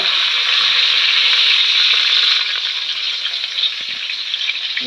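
Bay leaf sizzles in hot refined sunflower oil as tempering for a vegetable curry, a loud, steady frying hiss close by that eases slightly partway through, with no voices.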